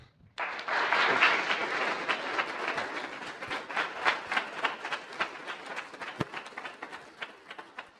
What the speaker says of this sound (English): Let's first give an applause.